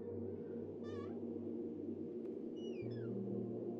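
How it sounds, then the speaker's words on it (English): A cat in the video game Life Is Strange: Double Exposure gives two short, rising-then-falling meows, the second one doubled, over a steady low ambient hum. "It's the cat."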